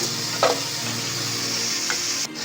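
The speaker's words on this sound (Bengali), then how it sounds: "আমি এবার মশলাগুলো একটু ভেজে নেব" Masala for ghugni, with tomato pieces and a splash of water, frying in a pan: a steady close sizzle with a couple of brief stirring scrapes, heard alone without any talk.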